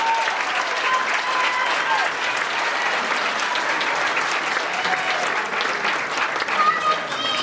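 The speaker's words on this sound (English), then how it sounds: "I think a massive round of applause for them." An audience at the Wexford Rose of Tralee 2022 event applauds, a steady, dense clapping heard from within the hall that holds at an even level throughout, with a few faint voices mixed in.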